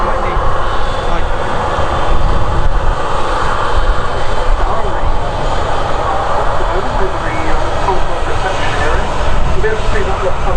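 Steady, loud roar of a jet airliner powered by Pratt & Whitney PW4000 engines near Manchester Airport, holding a constant broadband rumble for the whole stretch with no break.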